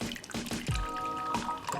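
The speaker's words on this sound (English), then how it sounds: "First, you pour the coffee in." Coffee poured into a coffee cup, a faint liquid trickle with small drips and a brief gurgling pour, quiet and close.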